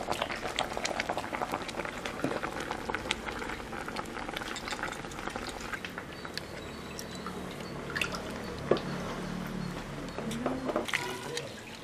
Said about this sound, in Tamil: காய் வேக வச்சு நல்லா கொதிக்குது.